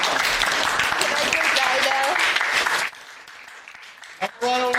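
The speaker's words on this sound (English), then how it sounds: "everybody give a round of applause" A small group of JROTC cadets claps briefly after a public speaking example, the clapping mixed with voices and chatter before dropping off abruptly, followed by quiet and a short spoken phrase.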